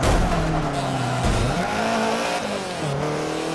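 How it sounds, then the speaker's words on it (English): An RX-8 race car engine winds up in Forza 7, a loud, continuous rising and falling engine whine with pitch sweeps and some tire squeal mixed in, sustained throughout. "listen to that RX-8 just wind up."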